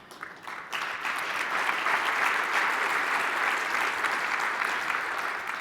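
Audience at a Growth Summit 2022 talk breaking into applause, which swells quickly into a dense, steady clapping that fills the room and holds evenly to the end.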